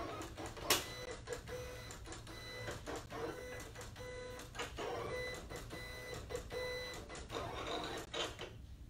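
A Silhouette Cameo 4 cutting machine drives its blade through paper without a mat, giving a steady mechanical whir and buzz broken by repeated short clicks and stops as the cutting force changes, fairly close and with no talk.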